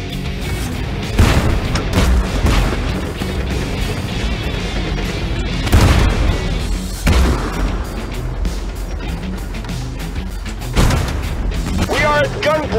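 Artillery bombardment in the tank video game Tank Force: heavy booming blasts erupt at intervals over a dense, continuous roar of battle noise.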